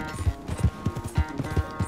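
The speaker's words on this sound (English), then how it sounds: "Is this my horse now?" Horse hooves clip-clopping in Red Dead Redemption 2, a brisk, steady rhythm of close, thudding beats at a trot, heard alone.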